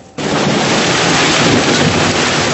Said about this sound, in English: With the thunder came rain, heavy hail in a wild afternoon storm.